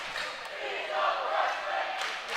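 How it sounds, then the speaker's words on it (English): Crowd noise from the stands at a high school boys varsity basketball game between Hamilton Big Blue and Lakota West Firebirds, a steady cheering roar that swells midway, with faint sneaker squeaks and voices mixed in. "They're cheering he's a freshman"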